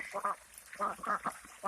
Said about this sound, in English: ducks that we hatched in the Janoel 12 incubator.